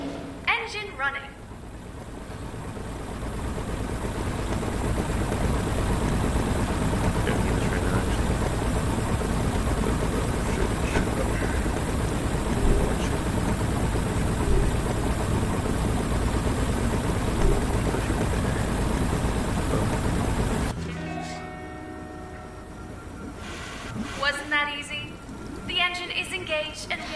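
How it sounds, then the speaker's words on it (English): Engine running in a VR video game, a steady loud droning rumble that holds for about twenty seconds and then cuts off abruptly, followed by scattered clatter and voices. "Engine running."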